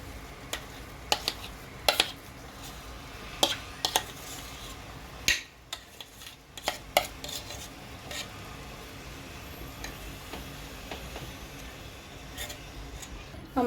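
A spoon stirs potatoes through masala in a pan with scattered soft scrapes and taps at an uneven pace, close by and fairly quiet, over a light background hiss.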